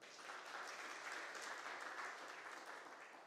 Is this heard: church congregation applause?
yes